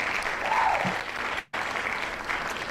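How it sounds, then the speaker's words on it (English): A round of applause from an audience at a live simulcast event, dense steady clapping that continues for almost three seconds, briefly cut by a sharp dropout near the middle and then resuming at the same level. "let's give them a round of applause"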